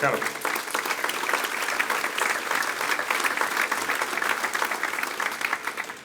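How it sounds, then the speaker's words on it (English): Audience at a city's State of the City address breaks into sustained applause, dense hand clapping that carries on steadily for several seconds and then begins to thin out at the end. "let's give them a round of applause."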